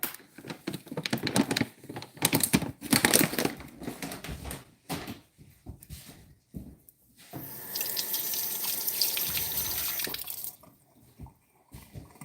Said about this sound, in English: Don't worry, that water's getting there.